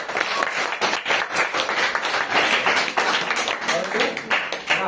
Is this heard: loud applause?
yes